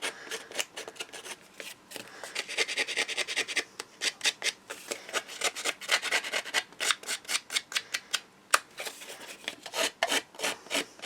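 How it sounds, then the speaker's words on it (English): Card edges for a memory book are distressed with quick rhythmic scraping strokes, a dry rasping rub repeated in close bursts with short pauses, and no talking. "I'm just going to distress these edges here now as well, just to make it a bit more uniform."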